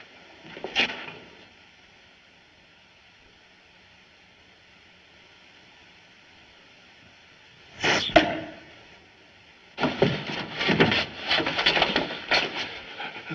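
An arrow strikes in a 1942 Charlie Chan mystery film, set in a desert castle. A sharp, brief thud lands near the start, another impact follows around the middle, and a burst of scuffling noise closes the scene, with no talk.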